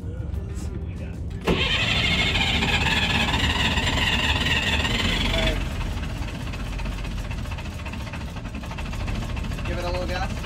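An old sailboat's engine cranks with a violent starter, catches and settles into a rough, steady idle, loud and close, with people talking over it.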